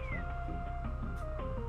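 A cat meows repeatedly indoors, several drawn-out, whiny cries in quick succession, close and fairly loud with no voices over them.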